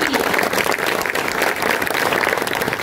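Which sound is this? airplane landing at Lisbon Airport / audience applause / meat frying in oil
audience applause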